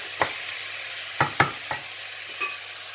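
A spoon stirs a lamb curry stew in a pan over a soft background sizzle, giving a few separate scraping knocks at an uneven pace, fairly close.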